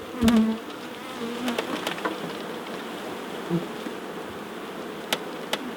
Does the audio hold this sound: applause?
no